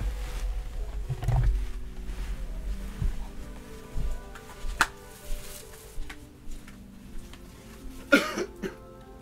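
Several coughs and throat-clearing bursts from another room, muffled and somewhat distant, scattered over a low background rumble with a few sharper knocks.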